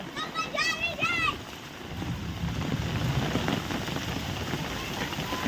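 Steady rain pattering on a surface, with a voice briefly calling out at the start before the rain continues alone.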